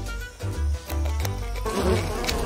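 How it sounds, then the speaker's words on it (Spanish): Swarming bees buzz loudly and agitatedly, the drone pulsing and swelling as if close by, with no speech. "¡Abejas! ¡Están muy enojadas!"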